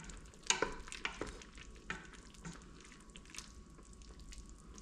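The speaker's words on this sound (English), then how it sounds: "Turn down the heat slightly and just give that a stir." A spoon stirs fish stew in a hot pan, making a few scraping clinks and sloshing strokes early on over a soft continuous sizzle, close and fairly quiet.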